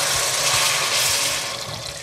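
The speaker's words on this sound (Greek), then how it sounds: "Ρίχνω νεράκι αρκετό." Hot water gushes from a tap into a pot of chickpeas, a loud, close, steady rushing pour that eases slightly toward the end.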